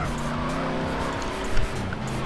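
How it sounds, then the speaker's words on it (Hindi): A fast-driven car in the PUBG battle royale video game roars with a continuous engine drone, tyres hissing and squealing, and a brief bump near the end; there is no talk. "फिर से गाड़ी दौड़ाई"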